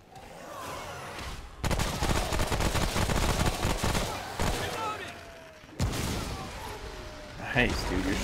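Shotgun blasts and other weapon fire in co-op play of Remnant From the Ashes, loud, sustained bursts with a sharp renewed blast later, under players' chatter.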